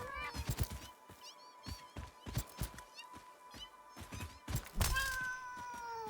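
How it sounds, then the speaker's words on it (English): Creature cats in the video game Satisfactory meow and wail repeatedly amid dull punching thunks and impact hits, a busy layered run of game sounds with a loud burst near the end. "I just punched a cat in the face."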